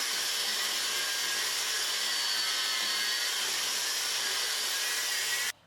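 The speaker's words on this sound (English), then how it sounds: "just let the grinder do the work with light pressure onto it" An angle grinder grinds down welds on a Land Rover chassis with a steady, loud, continuous abrasive hiss held evenly under light pressure, then cuts off abruptly at the end.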